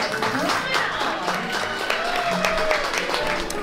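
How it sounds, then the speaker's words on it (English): A crowd applauds a princess promenade at Walt Disney World with a steady wash of clapping and general crowd noise throughout, with voices mixed in. "So ready your cameras and please applaud our royal princess."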